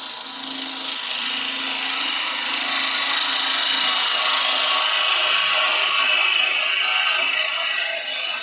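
A lathe tool takes a cut on a turning wooden cabriole leg, a continuous close scraping hiss that swells early and holds steady before easing slightly at the end.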